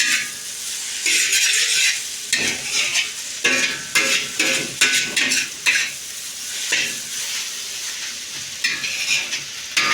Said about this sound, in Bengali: চিকেনটা অনবরত নাড়তে হবে